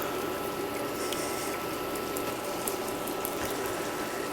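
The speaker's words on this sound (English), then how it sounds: "we're going to whisk up these eggs" Eggs are whisked with milk in a bowl for a casserole, a rapid, steady clatter of whisk strokes with wet sloshing, close and continuous without any voice.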